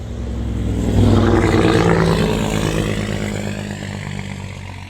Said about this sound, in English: Tractor trailer this time.